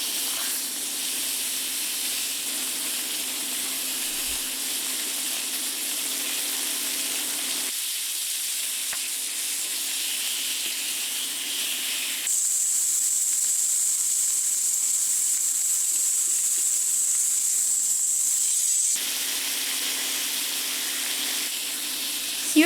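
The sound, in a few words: NY strip steaks searing in a pan with olive oil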